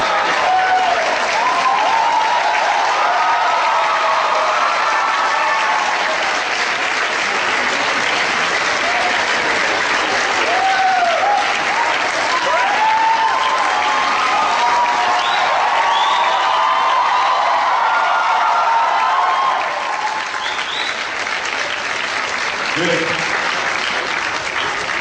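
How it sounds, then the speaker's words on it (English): A lecture-hall audience at a business institute claps steadily and shouts for about twenty seconds, loud and dense, with whoops and voices rising through the noise before it thins near the end. "These claps and these noises and shouts make us realize that we still are a living nation."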